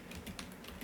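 Soft, quick clicks of typing on a computer keyboard, faint and close, in an uneven burst of keystrokes.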